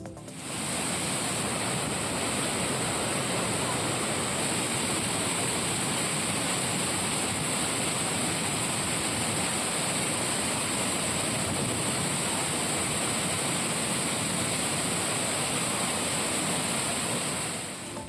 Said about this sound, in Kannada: ಶೃಂಗೇರಿಯ ಕಿಗ್ಗಾ ಸಮೀಪದ ಸಿರಿಮನೆ ಫಾಲ್ಸ್ ಧುಮ್ಮಿಕ್ಕಿ ಹರಿತಾ ಇದ್ದು